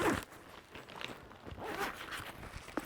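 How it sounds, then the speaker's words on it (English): A quick zipper pull closes a pocket on a packed emergency go bag, the rasping teeth heard up close and alone for a few seconds, with faint rustling of fabric. "Zip this up."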